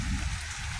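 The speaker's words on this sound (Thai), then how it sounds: "ฝนตกแห้งปานนี้" Rain falling steadily on a surface, probably sheet-metal roofing in a rural setting, as a dense, even hiss with no voices.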